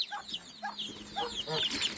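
Bantam and mixed-breed chickens cluck and chirp repeatedly in a yard, a busy flock heard fairly close and continuous, with no one speaking.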